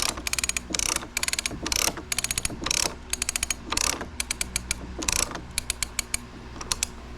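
Hand banding tool ratcheting a strap tight, giving repeated bursts of dense clicking close up, each stroke a rapid run of ratchet clicks separated by short pauses, steady and mechanical.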